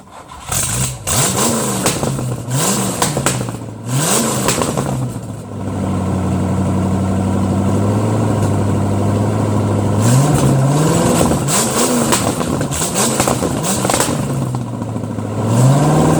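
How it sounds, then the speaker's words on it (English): A Trackjeep with new tri-wire headers cranks and fires up, then revs repeatedly in loud rising blips before settling into a rough, steady idle and revving again, close and unaccompanied by talk. "Let's fire this thing up for the first time with these new headers"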